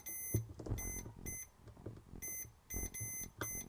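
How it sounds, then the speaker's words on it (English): A repeated electronic beep from a NiteCore New14 Intellicharger battery charger with a faulty diode sounds in short bursts about once a second, high-pitched and steady, over a low background hum and clatter. "it's beeping continuously"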